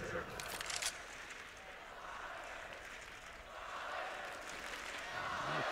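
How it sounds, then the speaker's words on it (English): A home-team crowd at an esports Counter-Strike match cheers in a steady, distant roar, swelling near the start and again toward the end, with a commentator talking over it. "Crowd trying to cheer the home team back on track"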